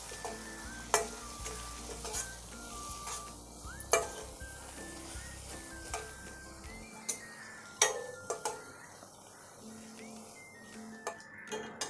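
A spoon stirs turmeric and masala into oil in a frying pan for okra bhaji, giving a soft sizzle under repeated sharp taps and clinks of the spoon against the pan at irregular intervals.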